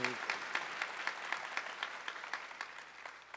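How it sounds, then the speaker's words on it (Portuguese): A congregation at a Catholic Mass for families applauds softly and briefly, scattered hand claps echoing faintly in the church after a priest's voice fades. "Vamos aplaudir nosso irmão?"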